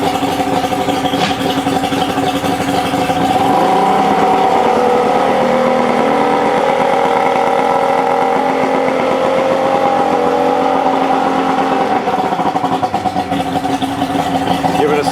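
A 1989 SeaCraft 18cc boat's engine runs steadily in gear, a continuous mid-pitched drone with a slight pitch shift near the start, close and loud throughout.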